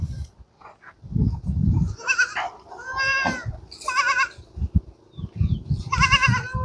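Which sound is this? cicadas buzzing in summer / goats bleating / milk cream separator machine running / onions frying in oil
goats bleating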